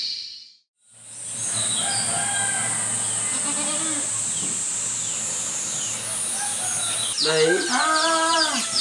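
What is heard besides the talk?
chicken clucking and rooster crowing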